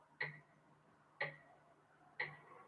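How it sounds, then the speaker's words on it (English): A wristwatch ticking through a microphonic electric guitar pickup, three evenly spaced crisp clicks about a second apart over a faint low hum. "That's my watch ticking through the pickup."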